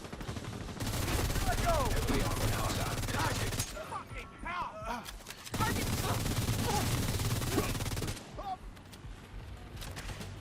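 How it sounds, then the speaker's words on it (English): Enemy gunfire in The Division 2 rattles in dense, sustained bursts, loud and close. It drops off briefly twice before resuming in heavy volleys. "Dude keeps shooting me on the side"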